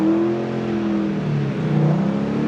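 A drifting car swings out wide under throttle, its engine holding a steady, close revving drone that wavers slightly in pitch as power is fed in.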